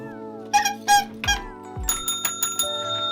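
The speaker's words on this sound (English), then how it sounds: "Pretty sure they have a bell here somewhere." A small bell is struck several times in quick succession, its bright ringing tones overlapping against a sustained background tone.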